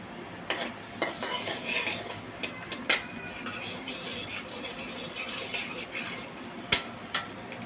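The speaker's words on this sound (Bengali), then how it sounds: "আমি এখন দিয়ে দিচ্ছি বাটার" Butter melts and sizzles in a pan, a steady soft frying hiss with occasional utensil scrapes and clicks against the pan, close and without talk.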